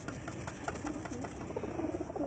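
Racing pigeons cooing close by, a series of soft, low, rolling coos repeating steadily over a background hum.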